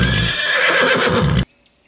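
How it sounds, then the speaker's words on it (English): A horse gives one long, loud, quavering neigh close up that lasts about a second and a half and then cuts off abruptly, leaving faint electronic tones behind. "H for horse. Horse run very fast."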